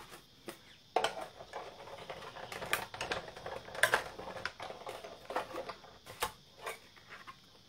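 A die-cutting machine presses through tissue paper, giving a quiet run of rapid, irregular clicks and ticking taps at close range.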